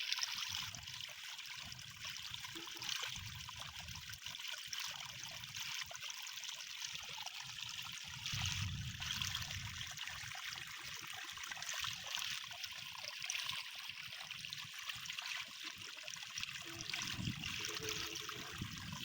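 Strong current in a stream rushes steadily with a broad, continuous watery hiss and gurgle, fairly close and unbroken, with no voices.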